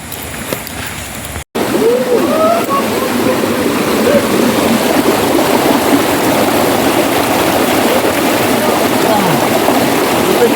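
A stream rushes loudly and continuously up close after a brief quieter moment at the start, a dense unbroken wash of running water with faint voices mixed in.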